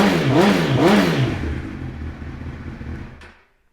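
A 2007 Honda CBR1000RR sport motorcycle with a Scorpion aftermarket exhaust, heard close and loud as the engine is blipped twice in sharp rising revs, then settles into a rough idle before cutting off.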